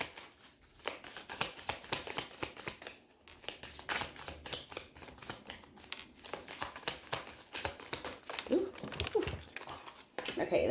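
Cards are riffled and shuffled in quick repeated bursts of crisp flapping, close and fairly soft, continuing for several seconds.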